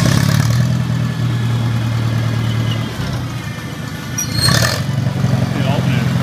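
A Farmall Cub tractor engine runs steadily at close range with a fitted Pertronix ignitor and a charging alternator, a constant mid-pitched drone that dips briefly and surges again, with someone talking over it.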